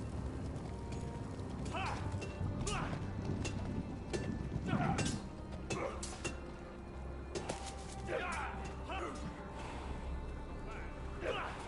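Horse hooves clip-clop at a steady rhythm in a Game of Thrones video game, running under game dialogue and background music throughout.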